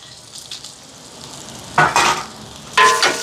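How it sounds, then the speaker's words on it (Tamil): Oil sizzles softly in a pan as dried chilies sauté, with two louder bursts of crackling hiss as food is stirred or added. "இப்போ இதெல்லாம் சேர்ந்து நல்லா வதங்கட்டுக்கு."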